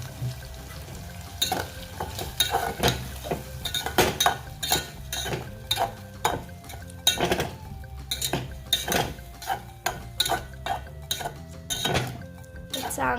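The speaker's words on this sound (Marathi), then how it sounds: "चांगलं तेल सुटूस्तवर परतून द्यायचं." Potato curry masala is stirred and fried in a pan with a utensil, giving repeated sharp metallic scrapes and clinks in an uneven rhythm over a soft sizzle. The sound is close and fairly loud.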